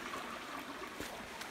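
A gentle creek flows along a bush path, giving an even, soft rushing trickle close by and at low volume, with no voices.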